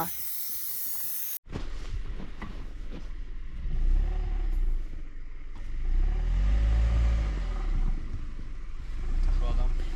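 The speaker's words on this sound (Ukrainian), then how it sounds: "Ти заїжджаєш в сугроб." A car pushing into a snowdrift on a wintry forest or mountain track, its engine roaring and swelling steadily with a hissing rush of snow, after a brief opening burst, while people talk over it.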